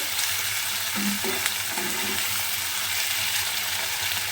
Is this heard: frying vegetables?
yes